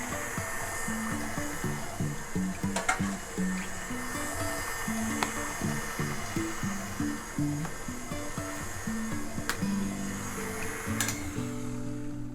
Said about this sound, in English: now let's let that get a quick mix